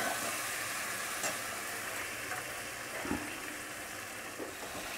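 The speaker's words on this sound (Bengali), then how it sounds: "এখানে সয়াবিনগুলো এবারে আমি ভেজে নিই, শুধুমাত্র সেদ্ধ করে নিয়েছি।" Boiled soybeans fry in a pan, a soft, steady sizzle with a few faint knocks and stirring touches, fairly quiet and without talk.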